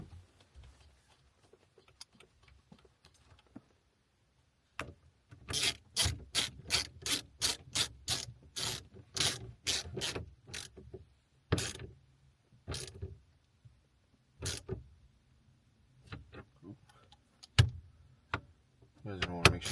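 Ratcheting and mechanical clicking as the 19 mm steering wheel bolt is tightened down on a 2017 Toyota Tacoma during a carbon fiber wheel install, in quick close bursts with pauses, and a person talks at times.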